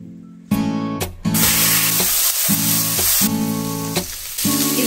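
Hot oil sizzles in a pan being heated for wok-style noodles, a steady bright frying hiss broken by several sharp bursts and pulses of added sound, close and loud.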